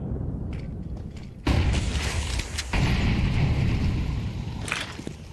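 Grenade blasts in a professional Counter-Strike match at PGL Cluj-Napoca: two heavy booming bursts land a second apart over a steady rumble of in-game gunfire and movement, loud and close.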